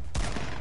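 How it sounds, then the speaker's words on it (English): SCAR assault rifle fire in Fortnite: a sharp, loud burst kicks in after a brief quiet moment and rings out densely for the rest of the short moment, with no voices. "Someone's shooting a scar, baby."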